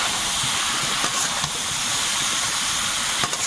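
Fried cauliflower going into a pan of shrimp curry sets off a constant close hiss of steam and sizzle, with a few faint clicks and no talking.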